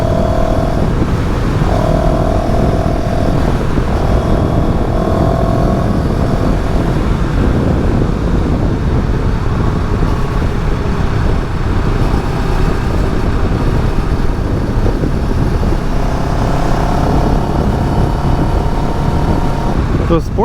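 CFMoto CL-X 700 café-racer motorcycle in sport mode, its engine droning steadily and loudly throughout the ride with constant wind rush, no clear gear changes standing out.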